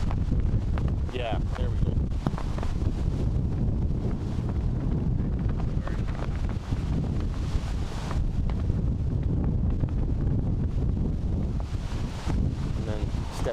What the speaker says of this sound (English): I don't think the wind is going to cooperate with you